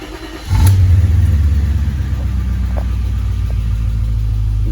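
A car engine catches about half a second in, then settles into a loud, steady, low running rumble that continues to the end with no voices.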